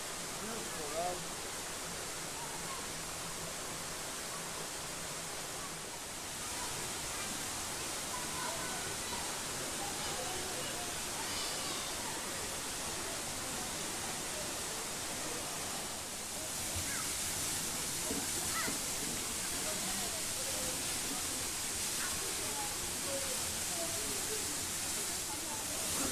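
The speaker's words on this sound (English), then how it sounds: "this is a very beautiful waterfall in Dodowa" Waterfall at Dodowa, Ghana, a steady broadband rush of falling water heard close, continuous and even throughout, with faint voices occasionally beneath it.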